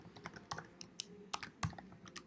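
Quick, uneven bursts of keystrokes on a computer keyboard typing into an Excel spreadsheet, close and crisp with small pauses between clusters and no talking.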